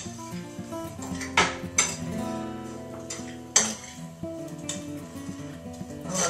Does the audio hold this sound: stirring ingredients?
yes